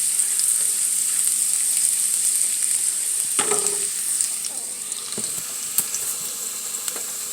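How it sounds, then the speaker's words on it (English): Food frying in a pan until brown gives a steady loud sizzle throughout, with a few clinks and stirring scrapes in the middle and near the end. "I'm gonna fry that for a bit and let them cook until it gets a little bit brown"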